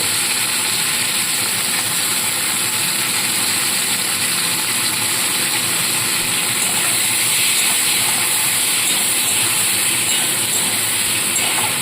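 Chopped onions, tomatoes and green peas sizzle in a hot pan, a steady close hissing fry that holds evenly throughout with no talk.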